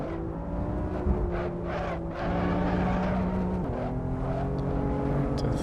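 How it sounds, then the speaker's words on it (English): A BMW M4 braking hard on the Nürburgring circuit, its engine note heard from inside as a droning, harmonic tone that drops and shifts through downshifts, with some tyre noise underneath and no talking. "And we're going heavy on the brakes here."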